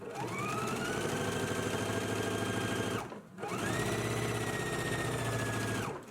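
Sewing machine understitching a shirt collar facing to its seam allowance, running in two long steady bursts with a brief stop between them, loud and close with no talk.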